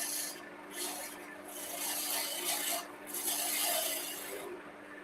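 Wood spinning on a lathe is cut with a wide parting tool, giving a steady raspy scraping hiss that swells and fades in passes over a constant motor hum, close by, with no talking.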